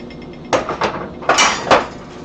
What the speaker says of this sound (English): Let me get a little bigger hammer.